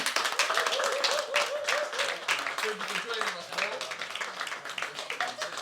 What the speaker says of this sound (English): So let's have a round of applause for NitoNB.